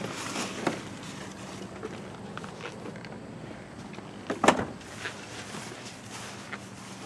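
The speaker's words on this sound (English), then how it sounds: "when I pull on this, the hood will pop up a little bit" A car's hood latch releases with a single short, sharp clunk as the hood pops up slightly, set against quiet background noise with a few faint rustles and knocks around it.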